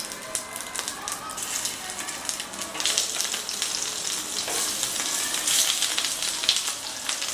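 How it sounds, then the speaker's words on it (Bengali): Stuffed karela (bitter gourds) fry in hot mustard oil over a medium flame, a continuous close crackling sizzle that swells and stays busy, with small pops throughout. "এবারে একটা একটা করে এই করলাগুলোকে নিয়ে তেলের মধ্যে দিয়ে দেব।"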